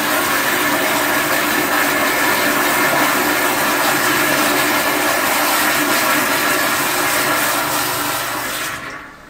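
A toilet in California flushes with a loud, continuous rush of draining water that holds steady for several seconds before trailing off abruptly at the end.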